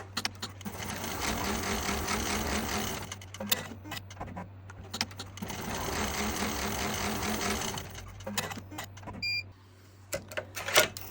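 A Smartstitch embroidery machine stitching a design, with a fast steady mechanical chatter and low motor hum in two long runs separated by a pause, ending with a few beeps and clicks.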